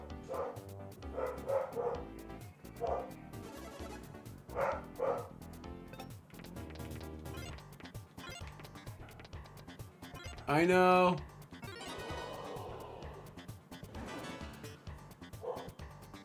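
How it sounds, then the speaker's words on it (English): Dogs barking in the video game Paper Mario The Origami King, short yips and bow-wows scattered in bursts under game music and a person talking over the gameplay. "I knew from the dogs barking."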